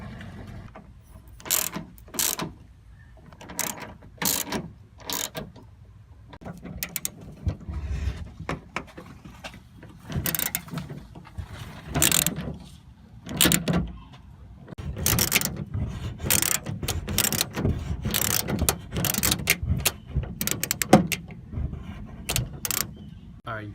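A ratchet driving bolts back into a car trunk, bursts of rapid clicking separated by pauses and clunks, close and moderately loud, with no speech throughout.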